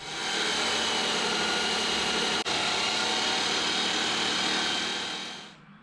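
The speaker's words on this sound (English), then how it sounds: "go ahead and cut our tie rod to that length" A power saw cuts steel tie rod tubing for a heavy-duty Jeep JK one-ton steering build, a steady loud whining grind running close and continuous before winding down at the end.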